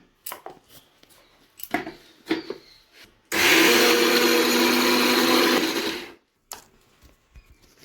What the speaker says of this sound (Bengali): মুসুর ডালটা আমি আগে ভালো করে বেটে নিই আমি দুটো কাঁচা লঙ্কা এর মধ্যে দিয়ে দিলাম